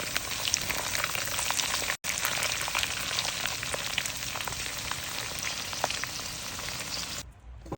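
Garlic and chili frying in a pan crackle in a dense, continuous sizzle with many small pops. It stays fairly loud, cuts out for a moment partway through, then fades near the end.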